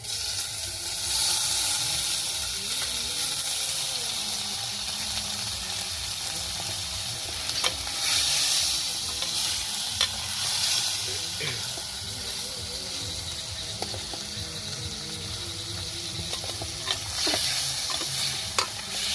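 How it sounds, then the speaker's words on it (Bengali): Paneer fries in hot oil in a pan at a rainy campsite, giving a close, steady sizzle and hiss. Stirring scrapes and clinks sound now and then, with a voice speaking over it at times. "আর এরপরে আমরা পনিরটা ভেজে নিব।"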